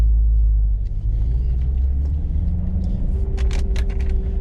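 A C7 Corvette running on a track with cold tires, its engine a loud, steady low rumble throughout, with brief higher-pitched scrapes and whines near the end.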